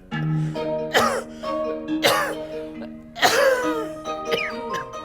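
Someone fakes a cough, with three or four forced, throaty coughs spaced a second or so apart over a steady tonal background.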